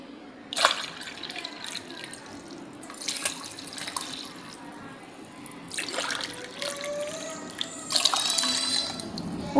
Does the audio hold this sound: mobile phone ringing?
no